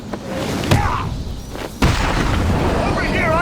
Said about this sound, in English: He's used some kind of grenade!